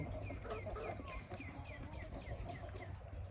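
Young chick hatched on a farm among a backyard flock, with soft repeated clucks and chirps sounding at a steady pace over constant low background noise from the pen.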